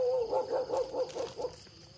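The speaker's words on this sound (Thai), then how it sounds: "โทษทีเด้อครับเสียงหม้ามันเห่าหน่อยครับ" A dog barks in a steady run of about seven sharp barks at a rural Thai fishing spot, moderately close and alone with no talk over it.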